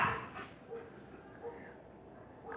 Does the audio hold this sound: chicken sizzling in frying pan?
no